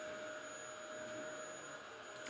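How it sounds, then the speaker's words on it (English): A household Hoover vacuum cleaner runs in the background of a workbench, a steady, even drone with a thin whine that holds unchanged throughout, fairly faint, with no talk over it. "I'm a bit sorry about the noise in the background"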